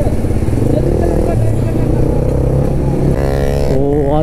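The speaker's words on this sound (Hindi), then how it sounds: "आते ही ये तो भाई फुल थ्रॉटल दे रहा है बंदा" A motorcycle, an NS200 or MT15 out on a city road, is held at full throttle, a loud sustained engine roar that climbs in pitch toward the end, heard up close.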